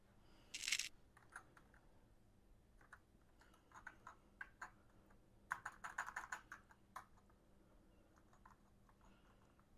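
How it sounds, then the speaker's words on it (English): Individual keys pressed on an Atari ST computer keyboard during a key test, giving sharp plastic clicks in short irregular bursts, close and fairly quiet, with a few louder clusters midway. "Let's pop this up and we'll do a keyboard test and just see which keys work and which ones don't."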